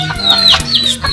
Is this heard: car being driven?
no